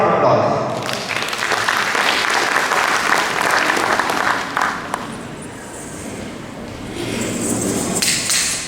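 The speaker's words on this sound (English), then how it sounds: "Let's welcome our performers with a huge round of applause." An audience at a school annual exhibition claps loudly and steadily for performers, the applause holding strong for several seconds before thinning slightly and swelling again near the end.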